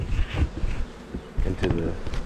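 Honeybees buzz around an open hive during a spring inspection, a close, dense hum with scattered louder passes of individual bees over soft handling noises.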